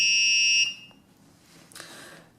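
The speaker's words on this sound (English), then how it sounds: "then the alarm goes off and the red LED starts blinking after 2 seconds" An Arduino laser obstacle detector's alarm gives a loud, close, steady high-pitched electronic beep, then cuts off abruptly into quiet with a faint clatter afterward.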